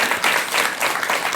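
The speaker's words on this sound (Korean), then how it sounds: "박수 한번 좀 부탁드릴게요." Audience applause during a talk about film, a short burst of steady, close clapping from a room full of people with no voices over it.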